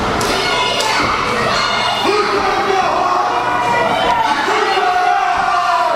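Arena crowd at an independent wrestling event, a dense steady roar of voices with scattered shouts and a few heavy thuds from the ring, loud and continuous throughout.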